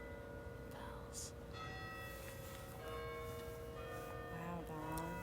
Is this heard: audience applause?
no